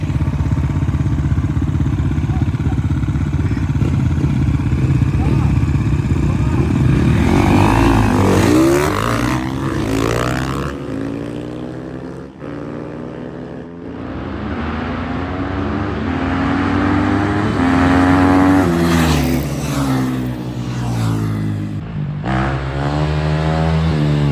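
Two enduro motorcycles, a KTM 350 and a Geon GNX, ride loudly close by, engines droning and revving with rising and falling pitch and passes that surge and fade over about twenty seconds, with no talking.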